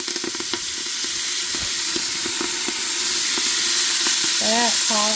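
Fatback sizzling in a hot pan, a loud, steady frying hiss that builds as steam rises, with scattered clinks of stirring and a brief voice near the end.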